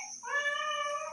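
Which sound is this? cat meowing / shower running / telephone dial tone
cat meowing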